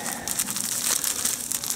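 Packaging material crinkles and rustles up close while a Kamado BBQ grill is unboxed, a steady papery crackle running throughout with no talking.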